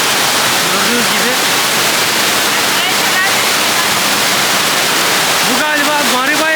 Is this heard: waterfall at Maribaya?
yes